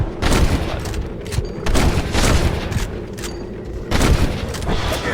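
Loud, close gunfire in the video game Red Dead Redemption: several sharp shots and short bursts crack out in quick succession, with booming reports separated by brief lulls.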